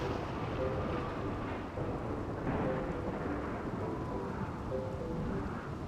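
Thunderstorm in the video game RimWorld: a continuous low rumble of thunder with rain-like noise, steady and fairly loud throughout, with no talk.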